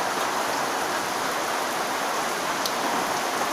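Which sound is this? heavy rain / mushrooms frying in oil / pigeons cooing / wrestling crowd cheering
heavy rain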